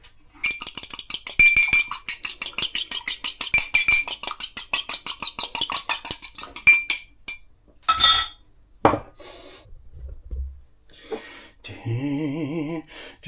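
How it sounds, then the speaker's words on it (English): Egg being beaten in a bowl with a fork or whisk, rapid rhythmic clinking taps for several seconds, then a few scattered knocks and clatters before a brief stretch of other kitchen noise. "Beat one egg."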